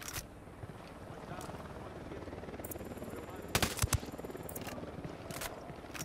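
A helicopter's rotor chop throbs steadily in Ghost Recon Wildlands gameplay, partly buried under bursts of machine-gun fire and scattered gunshots, with voices speaking over the action.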